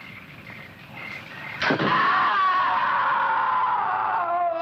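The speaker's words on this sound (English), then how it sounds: "I'm sure I heard a scream." A woman's distant, sustained scream from a 1961 jungle-island horror film, rising suddenly after a sharp impact and holding a long wailing tone over a steady background, with no talk.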